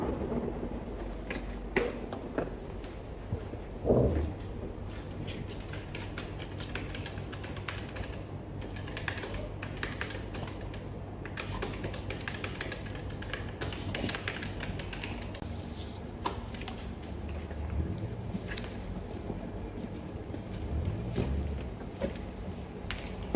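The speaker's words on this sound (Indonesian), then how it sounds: "saya akan ketik ulang sesuai format kantor" Office letter typed on a computer keyboard, a long run of quick irregular key clicks and taps, close and moderately quiet, with an occasional louder knock and no speech.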